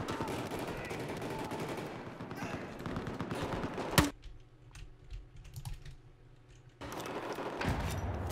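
Gunfire from above in the multiplayer shooter Battlefield 4 crackles in rapid bursts, with one sharp loud crack partway through, a quieter lull, and then dense firing again.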